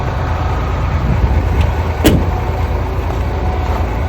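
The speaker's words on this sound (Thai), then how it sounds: "เดี๋ยวยกหัวให้ดูก่อนฟังเสียงเครื่องไปด้วยนะ" A used tractor-head truck's diesel engine idles with a steady, loud rumble throughout, broken by one brief sharp click partway through. No one speaks.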